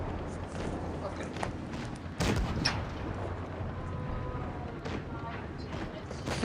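A tank cannon booms once in World of Tanks Blitz, a sharp blast amid game noise, with a voice talking around it.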